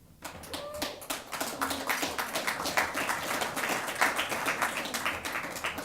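An audience at a small business event in British Columbia breaks into applause, a dense steady patter of many hands clapping that builds quickly and holds, with no voices over it.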